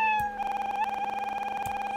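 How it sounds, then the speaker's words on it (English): A cat meow sound effect in a Scratch project fires over and over in quick succession, a rapid machine-gun-like stutter of short tonal meows, close and clear, with no talking. "It's like some kind of repeated meow sound, like some"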